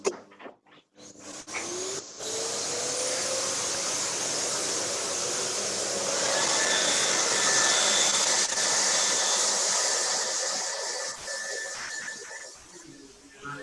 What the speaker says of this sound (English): That's vacuum and hair dryer at the same time.